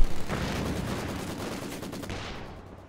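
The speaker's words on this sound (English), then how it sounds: "He's got out managed to evade those machine guns and made a bit of a breakthrough out here on the right." Sustained machine gun fire in the real-time strategy game Company of Heroes 2, a dense continuous battle roar of gunfire that stays loud throughout and tapers off slightly at the end, with no talking.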